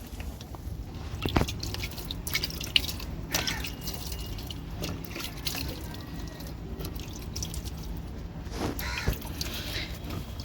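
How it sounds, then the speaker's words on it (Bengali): Water trickling and pattering lightly from above onto freshly seeded soil for chilli plants, a steady soft spray with scattered close drips and splashes, and no voices. "এবার হালকা করে জল দিয়ে দেবে তো উপর থেকে, দিয়ে দাও।"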